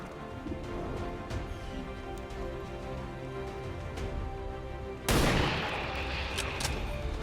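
Squad gunfire in XCOM 2, a low rumbling bed with faint shots, then a sudden loud burst of firing near the end that keeps crackling and hissing.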